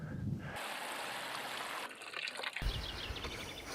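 Water poured into a container of finely cut willow, a soft, fairly faint splashing and trickling with changes in flow as the pour shifts.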